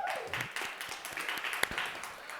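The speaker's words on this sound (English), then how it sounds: "I'm going to give you my own personal round of applause" One person claps at an uneven pace, the sharp slaps fairly quiet and close.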